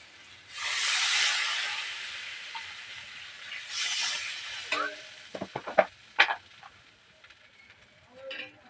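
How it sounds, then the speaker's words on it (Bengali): Raw mango pieces frying in a pan burst into a loud hiss as two bowls of water are poured in, the sizzle fading into softer bubbling with a few sharp clinks of stirring. "এবার এর মধ্যে 2 বাটি জল দিয়ে দেবো।"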